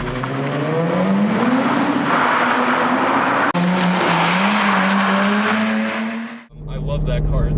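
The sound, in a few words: 2006 Nissan 350Z car drifting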